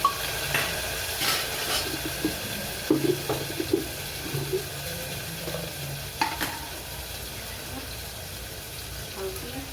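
Onion and tomato fry in a pan with a steady, soft sizzle. Scattered stirring clinks and scrapes come through at moderate loudness.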